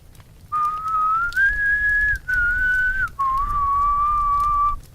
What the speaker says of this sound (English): The death whistle from Puss in Boots.